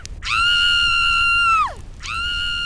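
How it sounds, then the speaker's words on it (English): A person screams in one long, loud, sustained shriek that tails off in a falling sweep, then starts a second scream, close to the listener over faint background noise. "apparently you're not going to stop screaming for no damn reason"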